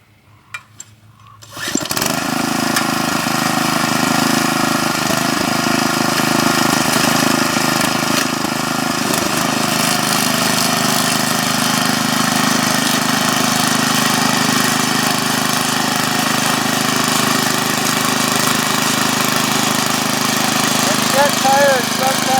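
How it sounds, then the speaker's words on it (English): A Sears Craftsman reversing tine garden tiller with a Briggs & Stratton engine starts up after a couple of seconds and then runs steadily, a loud, continuous droning engine close by. "It's a reversing tine Sears Craftsman with a Briggs & Stratton."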